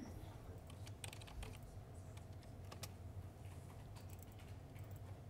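Fingers type on a computer keyboard in a quick, uneven burst of light clicks and taps over a low room hum, fairly close and faint, with no voices.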